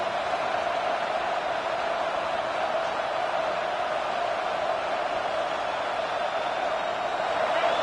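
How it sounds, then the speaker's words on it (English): Steady roar of a stadium crowd in a football video game, a continuous loud wash of cheering and noise with no breaks, filling the whole stretch without distinct individual voices. "this crowd trying to help keep them there"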